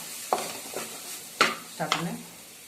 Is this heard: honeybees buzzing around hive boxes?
no